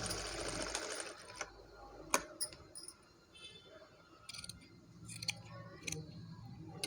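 A sewing machine stitches a child's blouse in short bursts, a rapid whirring run at the start followed by scattered clicks and brief stitching spurts, close and fairly quiet.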